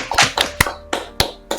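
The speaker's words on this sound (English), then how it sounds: "Round of applause for Ray for being on the podcast." A few people clap during an online podcast chat, giving scattered close claps spaced irregularly over a second and a half.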